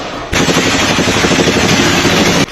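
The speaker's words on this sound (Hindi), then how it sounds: "इस्लामाबाद में इमरान खान के सपोर्टर्स पर फायरिंग के लिए मशीन गन्स का इस्तेमाल किया गया।" Sustained machine gun fire during a crackdown on protesters in Islamabad, Pakistan: a loud, dense stream of rapid shots that bursts in abruptly and runs unbroken for about two seconds before cutting off.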